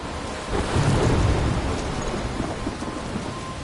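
Thunderstorm in the video game Life is Strange: steady rain hissing over a low rumble of thunder that swells early and then rolls on beneath the downpour, with no voices.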